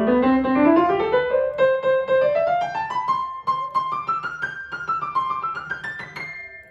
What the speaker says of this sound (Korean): 그렇다면 이 피아노의 소리를 한번 들려드릴게요.